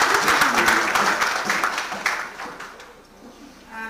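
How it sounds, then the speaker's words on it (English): A burst of audience clapping, dense and loud at the start, thinning out and fading after a few seconds. "I think the father's representative deserves another round of applause."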